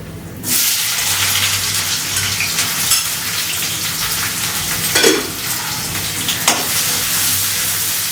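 Chopped onions frying in a pan, a loud dense crackling sizzle that starts abruptly and runs steadily, with a few stirring scrapes along the way.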